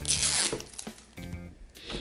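A zipper rips open on LOL Bling toy packaging, with a quick zipping tear near the start, then softer plastic rustles and a second short pull, close and fairly quiet, no talking.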